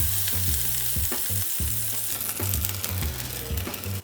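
Pork sausage patties frying in a pan, a close, constant loud sizzle with scraping and stirring noises over it.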